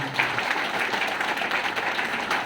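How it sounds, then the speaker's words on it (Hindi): A seminar audience in Nagpur applauds with a continuous, even wash of many hands clapping, moderately loud and free of speech. "एक बार उनके लिए जोरदार तालियां।"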